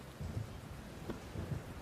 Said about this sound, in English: it starts raining